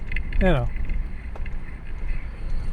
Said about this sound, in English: What you hear right there is the brakes.